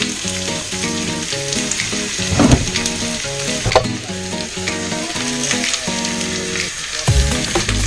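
Pak choi sizzles with soy sauce in a pan aboard a yacht, giving a steady close frying hiss with occasional sharper pops. A sustained layer of tonal music runs underneath throughout.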